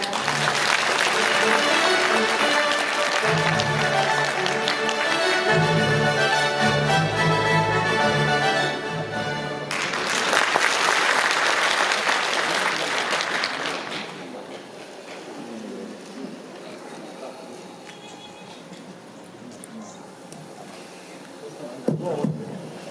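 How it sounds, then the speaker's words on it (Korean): An audience at a Pocheon city citizens' festival applauds ahead of the mayor's opening address, loud sustained clapping mixed with music and amplified sound that then drops away to quieter room noise and a brief knock near the end. "큰 박수 부탁드립니다"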